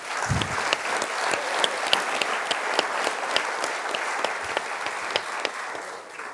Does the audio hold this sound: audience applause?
yes